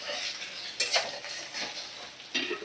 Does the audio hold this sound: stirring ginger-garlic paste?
yes